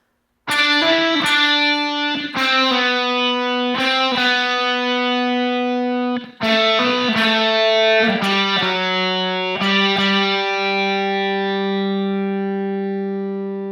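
Distorted electric guitar plays slow sustained notes and chords, each ringing out with a gritty, buzzing tone and long decay.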